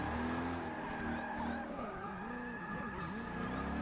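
Koenigsegg One:1 hypercar sliding sideways in Forza 6, engine roaring steadily with long continuous tire squeal through the whole drift, loud and close.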